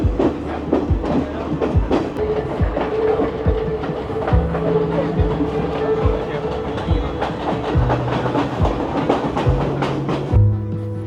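A train rolls along steadily on a Sri Lankan railway near Nuwara Eliya, wheels clacking rhythmically over rail joints with a constant rumble and hum beneath.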